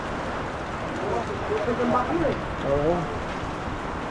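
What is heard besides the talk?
heavy rain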